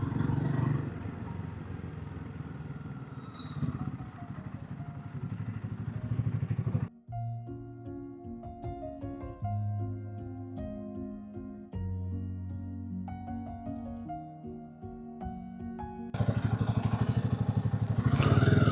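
A Royal Enfield Himalayan 450 motorcycle cruises on a long-distance highway ride from Delhi, a steady broadband engine and wind roar that gives way midway to a quieter stretch with tonal humming before the full roar returns.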